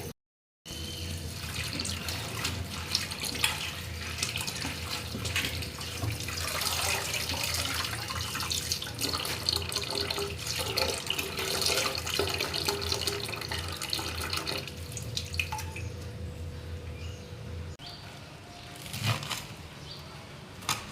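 Steady running water pours from a tap while spinach is washed, a continuous splashing rush with faint clinks and a quieter patch near the end.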